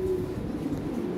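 A pair of pigeons offered for sale coos close by, soft low throaty calls rolling over a steady background hum.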